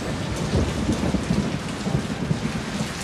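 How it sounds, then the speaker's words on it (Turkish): Heavy rain pours steadily while thunder rumbles low and continuously underneath, a dense, loud wash of sound with no voices. "Ben yağdırdım yağmuru."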